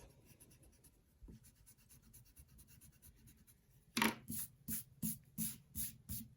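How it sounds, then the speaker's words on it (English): Pencil marks are erased on paper: faint scratchy writing sounds at first, then a close run of quick, rhythmic rubbing strokes, about eight in a row, with no one speaking. "you can go ahead and erase"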